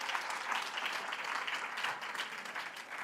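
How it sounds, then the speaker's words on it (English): Audience applause at a live high school sports awards ceremony, honoring a scholarship football player, a steady broad clapping wash from a sizable crowd lasting the whole stretch, moderately quiet and without talk over it. "Let's please clap it up for Devarius Jesse"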